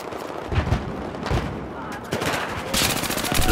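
An M60 machine gun firing in the video game Battlefield 4, loud rapid bursts of gunfire with brief pauses between them, under a busy battle backdrop.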